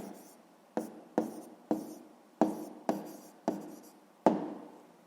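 A pen writes an answer by hand on paper, about eight distinct strokes, each a quick scratchy onset trailing off, close and quiet with short gaps between them.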